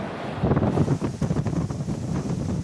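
Wind buffeting a sailboat at sea, about 15 knots apparent wind on the beam with gusts rising toward 30 knots, roars steadily into the microphone with gusty surges and water noise beneath, no talking.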